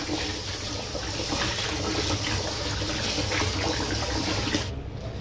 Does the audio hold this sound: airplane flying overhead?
no